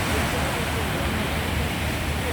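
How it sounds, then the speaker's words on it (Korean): Waves crash against the East Sea coast at Dojjaebigol near Donghae, a loud, dense, continuous wash of surf noise filling the whole moment without a break. "대단한 파도입니다."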